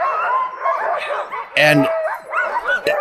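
Sled dogs in Canada, anchored in harness beside the sled, barking and yipping in an excited overlapping chorus, close and loud, with a sharp bark burst in the middle.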